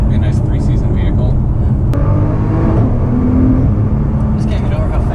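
Engine of a 2020 Nissan GT-R NISMO pulling hard inside the cabin with quick gear changes, a steady loud drone that shifts pitch partway through, with people talking over it.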